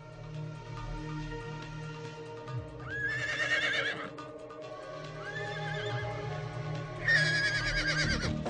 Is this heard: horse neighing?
yes